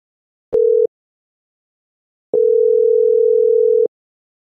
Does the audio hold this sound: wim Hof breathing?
no